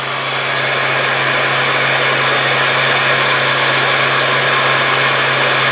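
An electric motor drawing about 1.8 amps from the wall runs as part of a self-looping motor setup, giving a steady, loud whirring drone with a constant low hum throughout, no voices.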